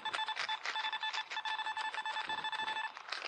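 A Simplex metal detector repeats its high, steady target tone in quick pulsing bursts, close and clear, with no voices over it.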